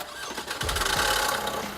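2017 Vauxhall Astra hatchback's 1.6 litre diesel engine cranks and fires up, settling into a loud, rough, clattering idle close by.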